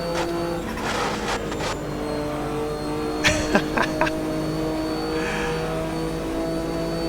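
A Porsche 962 Group C race car engine at Old Spa in Automobilista 2 drones with a steady tonal buzz, punctuated near the middle by a few sharp pops and crackles, fairly loud throughout with no voices.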